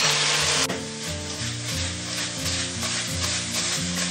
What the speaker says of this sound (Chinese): 然后配入少许的料酒去腥，下入料头跟青红椒炒香。